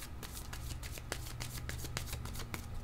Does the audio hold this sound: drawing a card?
yes